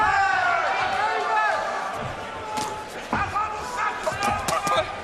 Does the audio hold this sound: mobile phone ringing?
no